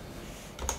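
A brief burst of typing code on a computer keyboard, faint soft clicks ending in a sharper keystroke.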